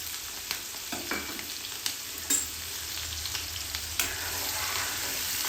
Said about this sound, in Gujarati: ડુંગળી છે તે સમારેલી ઝીણી ઝીણી છે તે આપણે નાખી દઈશું